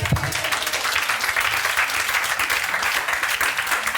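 A church congregation breaks into sustained, loud, dense applause that fills the room at an even level throughout.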